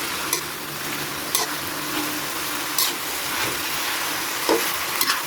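Chicken pastil with oyster sauce frying in oil, a steady close sizzle with occasional scraping strokes of stirring breaking through.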